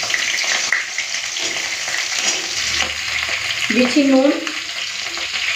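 Spring onions and eggplant frying together in oil in a wok, a loud steady close sizzle with stirring, while a voice speaks briefly over it.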